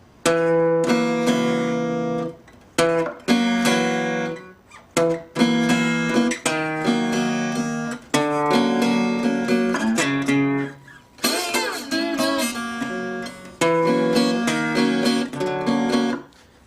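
On an acoustic country blues guitar, a descending four-note phrase from a song is played again and again in short separate bursts, each note ringing clearly, close and fairly loud, with brief silences between runs.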